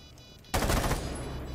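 Sudden burst of rapid automatic gunfire in a multiplayer shooter video game, erupting after a quiet moment and continuing as a dense rattling volley, fairly close and loud, with no talking over it.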